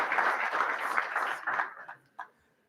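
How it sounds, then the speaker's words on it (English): Audience applause at an event as a name is called, a broad wash of clapping that swells and then thins out into a few scattered claps before fading. "Let's give him a round of applause."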